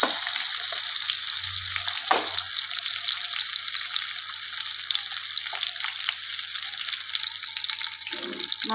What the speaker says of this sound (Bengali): মাছটা একটু ভাজা হোক, তারপরে দেখাচ্ছি